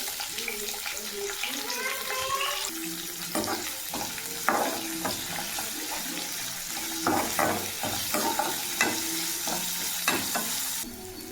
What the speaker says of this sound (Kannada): ಹೆಚ್ಚಿಟ್ಕೊಂಡಿರೋಂಥ ಈರುಳ್ಳಿ ಹಾಕ್ತಾ ಇದ್ದೀನಿ.